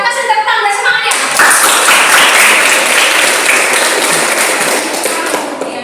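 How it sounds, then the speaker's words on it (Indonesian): Classroom of students clapping for a student group coming forward, a brisk burst of loud, dense applause following a moment of talk, with voices mixed in under the clapping. "kita kasih tepuk tangan dan semangat ya"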